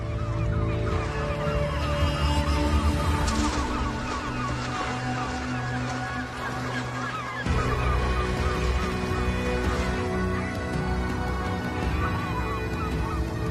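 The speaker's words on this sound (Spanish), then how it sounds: "las gaviotas argénteas se tiran de cabeza para disputarse hasta el último pez descartado por las ballenas" Herring gulls squabble and dive over fish discarded by whales at sea, a dense, continuous chorus of harsh honking calls and cries layered over steady background noise, loud and close throughout.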